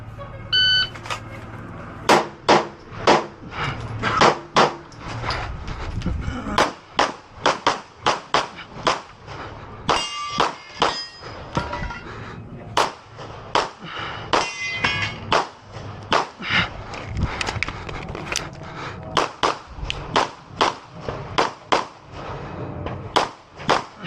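Rapid pistol gunshots ring out during a carry optics stage at a shooting match, loud and close in quick bursts of sharp cracks separated by brief pauses across the whole run.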